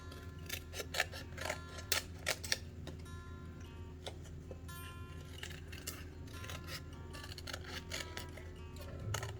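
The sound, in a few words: scissors cutting out a rose tattoo for resin bookmark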